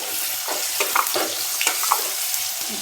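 Turmeric and salt sizzle in hot oil for a radish chutney, a close, steady frying crackle broken by scraping stirs, with no one talking.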